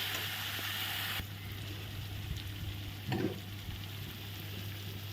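Spices with turmeric and ground peanut paste fry in a pan for a vegetarian dish, a steady broadband sizzle that softens partway through, with a brief scrape of stirring near the end.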